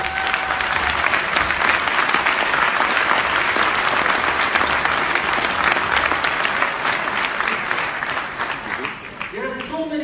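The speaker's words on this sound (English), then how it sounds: "Can you give big round of applause to Mr." Big round of sustained audience applause at a Lisbon event, loud and dense from the start, the crowd noise thinning and fading toward the end.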